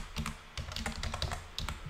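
Rapid typing on a computer keyboard, a quick close run of soft key clicks at low volume, no voice over it.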